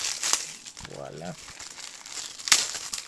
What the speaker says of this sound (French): Donc, sinon, je vais le déballer.